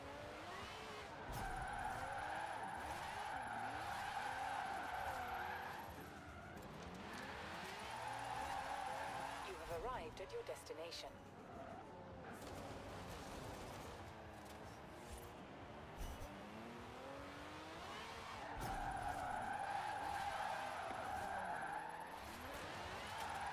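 Tyres skid and squeal in long bursts as a car drifts in Forza Horizon 4, the engine droning beneath, close and loud, easing briefly midway before rising again.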